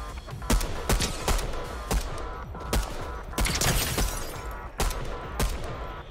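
The Montaraz shotgun fires in a shooter video game in a rapid series of sharp, loud blasts, roughly eight or nine spaced close together over a busy background of game noise.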